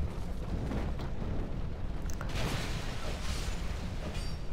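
Fire blazing in the video game Dark Souls II: Scholar of the First Sin, a dense continuous roar and rumble with faint creaks, steady and loud throughout, with no one talking.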